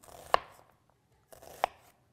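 A knife dices an onion on a cutting board, two crisp close chops about a second apart, each with a short crunching slice before the blade hits.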